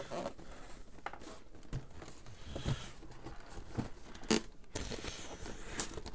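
The Saints Row IV Wub Wub Edition box being opened by hand, with close, quiet rustling, cardboard scrapes and sharp crinkling pops scattered irregularly throughout.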